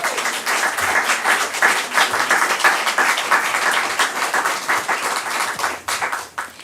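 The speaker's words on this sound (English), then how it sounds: "you can now applaud for our candidates" Audience at a Minnesota Senate and House election forum claps steadily for the candidates, a dense, even wash of applause that holds for several seconds before thinning out at the end.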